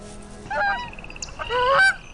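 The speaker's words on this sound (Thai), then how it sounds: "พ่อแม่ห่านต่างร้องเรียกกันและกัน" Canada geese honk to each other in Canada's north, two bursts of loud nasal calls, the first short and the second longer with several overlapping honks, over a quiet background.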